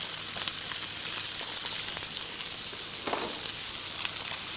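Butter sizzling and frying in a hot steak pan, a steady bright crackle filling the clip with scattered pops, close and continuous with no talking.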